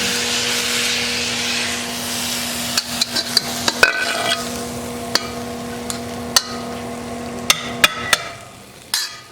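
Shrimp and scallops stir-fry in a wok, a steady sizzle broken by a series of sharp metallic clanks from the spatula striking the pan, the hiss dropping away near the end.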